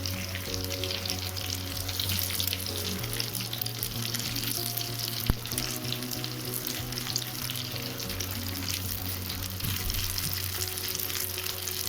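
Cutlets shallow-frying in hot oil give a steady, crackling sizzle throughout, with one sharp clink of a utensil near the middle.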